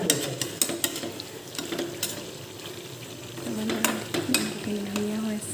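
Eggplant slices sizzle in hot oil in a pan while a utensil stirs them, with sharp scrapes and clicks against the pan rising over the steady frying hiss.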